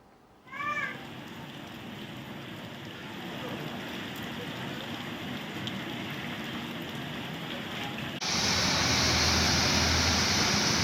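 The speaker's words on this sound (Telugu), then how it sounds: "నగర వ్యాప్తంగా మోస్తారు వర్షం కురుస్తోంది" Steady, dense hiss of moderate rain falling across Hyderabad, growing louder and brighter near the end, with a brief cat-like meow at the very start.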